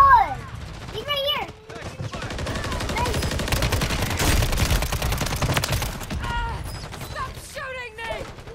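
Rapid bursts of gunfire from a first-person shooter video game, dense and continuous across the whole stretch, with voices talking over the shooting near the start and end.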